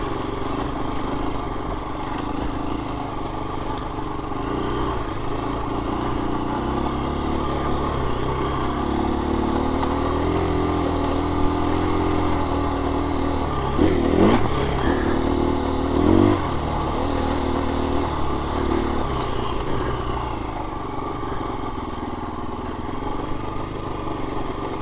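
A 2024 KTM 350 EXC-F dirt bike engine runs steadily for about 25 seconds at a slightly raised idle, with a droning four-stroke note, a few brief blips and some mechanical clatter.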